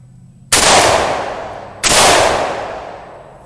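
Two loud, close gunshots fired into stacked leather packs and a dye bottle, each a sharp crack with a long decaying tail, about 1.3 seconds apart.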